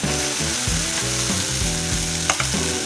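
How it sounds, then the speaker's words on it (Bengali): A ladle of chira-suji batter sizzling in an oiled nonstick pan on the stove, a loud continuous frying hiss with steady crackle, close up, with a low hum underneath and no talk. "এবার 1 হাতা ব্যাটার দিয়ে দিচ্ছি।"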